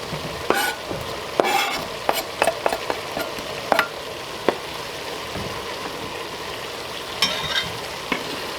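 Onions and garlic frying in a pot for shepherd's pie: constant sizzling hiss broken by scattered scrapes and clinks of a spoon stirring against the pot, close up.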